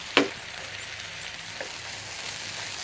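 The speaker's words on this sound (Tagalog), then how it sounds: "So ngayon pwede na natin gisahin yung bawang." Garlic sautéing in a pan with beef sizzles softly and steadily, with one sharp clatter of a utensil near the start and a faint knock later, and no one speaking.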